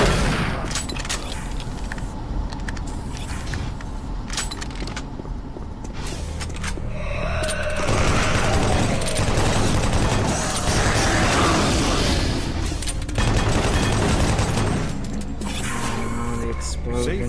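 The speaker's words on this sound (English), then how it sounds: "The explosion." Explosions and gunfire erupt in Doom 3 combat against demons, a dense, loud wall of booms and rattling bursts that swells midway, with someone talking over the din.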